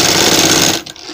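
An electric sewing machine stitches a frill onto a sleeve with a loud, steady, close mechanical whir that stops abruptly near the end.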